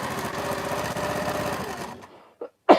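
A sewing machine stitches a quilt with a close, loud, rapid mechanical whir that runs for about two seconds and then stops, followed by a couple of short handling sounds.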